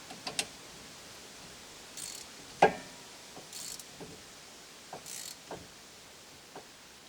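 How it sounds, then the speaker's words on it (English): A wrench clicks and ratchets on the rear disc brake of a Town and Country or Caravan, faint scattered metallic ticks and one sharper clack, close by in a quiet space. "Turn it a couple times, then you got to turn your wrench"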